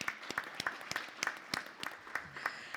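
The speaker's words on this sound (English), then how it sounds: "Big applause for Simone." Scattered audience applause for Simone at a conference plenary session: a sparse run of distinct, fairly quiet handclaps from a small number of people, irregular in rhythm and heard alone without talk.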